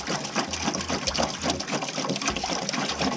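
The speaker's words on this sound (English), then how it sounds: "Fresh gallon of water going in." Fresh water flows through the coil of a Navien NCB 240 combi boiler during a flushing clean, a gurgling, sloshing stream with pulsing low thumps from the pump, steady and close, no speech.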